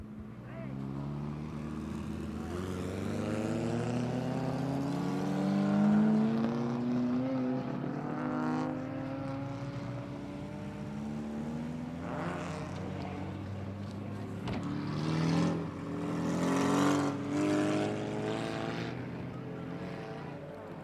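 Junior stock cars race around a track, several engines rising and falling as they pass by at a distance, while an announcer talks over the noise.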